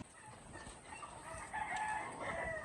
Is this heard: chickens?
yes